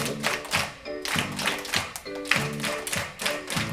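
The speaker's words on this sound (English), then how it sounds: "This is a song and a clapping game." Hands clapping in a rhythmic clapping game, a steady patterned series of crisp claps and pats close by, repeating in a regular beat alongside a sung melody.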